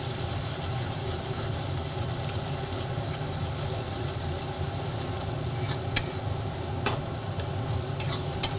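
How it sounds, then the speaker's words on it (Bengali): Egg frying in a pan with onion and tomato, a steady close sizzle under the scrape and clatter of a spatula stirring, with a few sharp clinks near the end. "ডিমটা ভালোভাবে একটু ভেজে নিচ্ছি সব কিছুর সঙ্গে"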